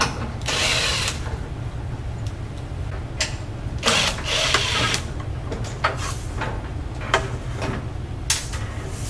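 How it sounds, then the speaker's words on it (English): Screws being removed from the cover of a mini split air conditioner, heard as repeated close ratcheting clicks and short mechanical whirs in bursts over a low steady hum, with no talking. "you can just take this off with the 4 screws"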